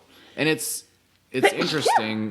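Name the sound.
sneeze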